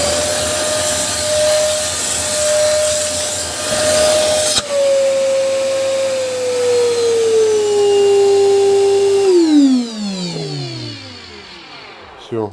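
A Samsung SC20M251AWB vacuum cleaner running after a motor repair, a loud steady whine that drops in pitch partway through, then winds down as the motor is switched off and spins to a stop.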